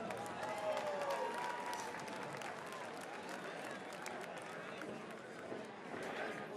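Arena crowd at the Pensacola Bay Center clapping and cheering after an MMA fight ends in a draw, a dense wash of applause running under an announcer's voice.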